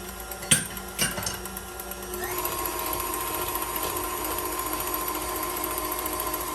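An electric mixer blends room-temperature milk into marble cake batter: a couple of knocks against the bowl, then a steady, close motor whir that holds on without voices.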